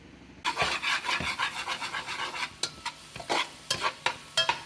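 A pot of wood duck sauce piquante cooks on an electric stove, with a low sizzle under repeated scraping stirs and spoon knocks against the pot.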